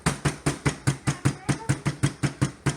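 A hammer crushing cookies into crumbs, fourteen evenly spaced, fairly loud thuds in a brisk regular rhythm, each a short knock with a quick crumbly tail.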